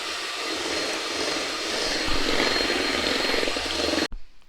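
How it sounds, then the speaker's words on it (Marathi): An electric beater whipping cream in a bowl, a loud continuous whirring drone that holds steady for about four seconds, then cuts off abruptly. "आपण व्हिप क्रीम आता फेटून घेऊ।"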